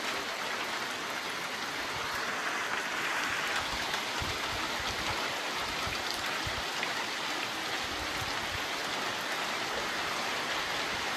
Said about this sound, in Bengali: তবে বৃষ্টি তো হইতে আছে অতিবৃষ্টি কেন একবারে ভারী বৃষ্টি হইতে।